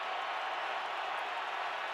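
A football stadium crowd at a Buccaneers versus Cowboys NFL game roars steadily as a continuous, dense wall of cheering noise, loud and unbroken throughout with no distinct voices standing out.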